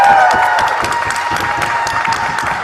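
A debating society audience at a Philosophical Society motion breaks into dense, sustained applause mixed with cheering, steady and loud throughout with no clear gaps.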